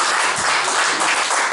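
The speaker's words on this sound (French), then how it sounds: "Acclamez pour lui." Audience at a family year-end party in 2014 breaks into steady applause, a brisk continuous patter of many hands with faint cheering mixed in, moderately loud and close.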